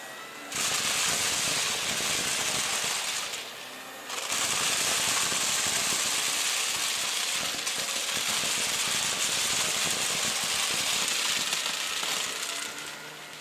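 Dyson Big Ball Multifloor canister vacuum running with its turbine head, a loud steady whooshing hiss that briefly drops away and then resumes, with rattling debris being picked up.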